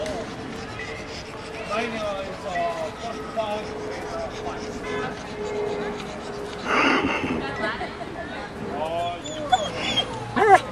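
Several dogs at a dog park whine, yip and bark at moderate distance while a person talks throughout, with a louder scuffle of barking midway.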